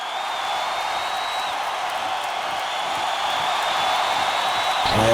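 A wrestling event crowd roars in a steady, dense wash of cheering that swells slightly toward the end, with a faint whistle-like tone riding over it.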